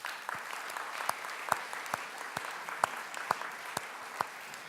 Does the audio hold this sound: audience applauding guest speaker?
yes